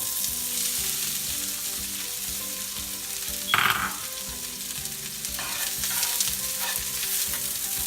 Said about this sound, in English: Now you want to add your 2 diced medium onions into your oil.